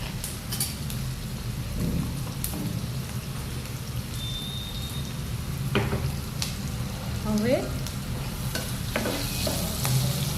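Paneer and vegetables sizzle in a pan on full gas with a steady, close frying hiss throughout. A spoon scrapes and stirs through the food now and then, and a few faint utensil clinks rise above the sizzle.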